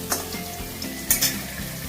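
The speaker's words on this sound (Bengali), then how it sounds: "আলুটা দেখো ভাজা ভাজা হয়ে গেছে।" Steady sizzling of potatoes frying in a little hot oil for a soya chunk curry, with a few brief stirring scrapes and clinks against the pan.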